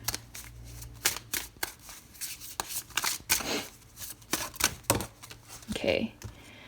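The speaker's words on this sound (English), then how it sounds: "let me get a Arcana of Astrology card for you" Cards from an Arcana of Astrology deck are shuffled and drawn with a run of quick riffling snaps and soft slides, close up, while a person talks quietly over them.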